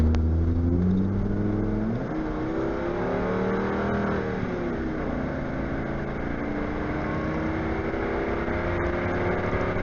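A car accelerating on a freeway, heard through a cheap dash cam's microphone: engine pitch rises, drops at a gear change, then climbs again under heavy road and wind noise, with no talking.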